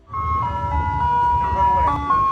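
A cheerful chiming jingle plays from an ice cream truck, bright repeating melody over a low engine rumble, loud and close, starting abruptly and running continuously.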